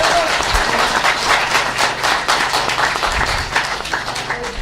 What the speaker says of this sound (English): if you could give the mayor a round of applause for the wonderful work that he's doing